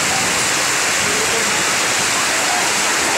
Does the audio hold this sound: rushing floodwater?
yes